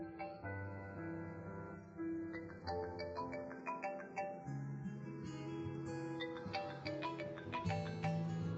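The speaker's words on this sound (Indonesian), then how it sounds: "Gadis teleponmu berdering." A melodic phone ringtone plays continuously, a bright electronic tune with chiming notes repeating over a steady backing.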